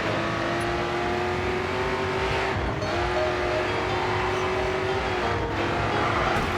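A race car in the GRID 2 video game revving hard with tire squeal as it is knocked into a spin by a PIT manoeuvre, a loud sustained engine whine that dips and climbs again under continuous road noise.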